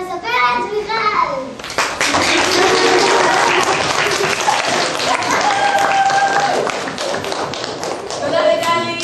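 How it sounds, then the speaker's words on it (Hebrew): Audience at a Hanukkah children's play bursts into stormy applause after a short spoken introduction, the clapping loud and sustained for several seconds before easing as a voice returns. "קבלו במחיאות כפיים סערות את המספרת"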